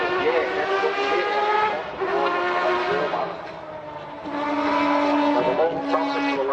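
A Hyundai Accent LC race car engine with variable length intake trumpets accelerates on track, its loud revving rising and dipping through gear changes in a sustained raspy howl.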